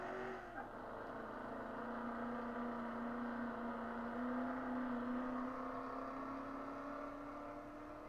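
A heavy truck driven in Car Mechanic Simulator 2021 hums with a steady engine drone that slowly climbs in pitch as it revs and accelerates, continuous and close for the whole stretch, with no talking.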